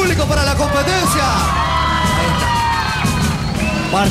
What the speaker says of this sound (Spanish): ¡Un grito del público para la competencia!